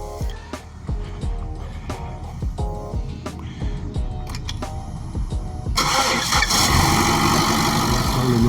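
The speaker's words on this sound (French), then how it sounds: "Le moteur tourne à l'essence" A car engine running on petrol, fitted with an E85 flex fuel kit, starts with a burst of starter clatter and catches, then settles into a steady, loud, close idle.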